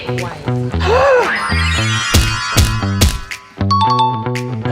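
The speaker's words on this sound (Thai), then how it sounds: "มีคนกดกริ่ง" A doorbell chime rings out in a classroom setting, bright tonal notes ringing over background music, with brief voice sounds mixed in.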